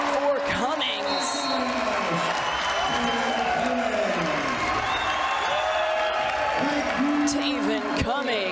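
Home crowd at a basketball game cheering and applauding during a timeout, a loud, sustained roar of claps and shouts under a commentator's voice, with whistles and squeaks poking through.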